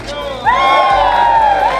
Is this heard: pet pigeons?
no